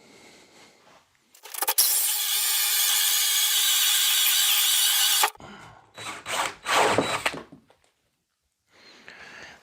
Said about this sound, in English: then you can drill them from this side.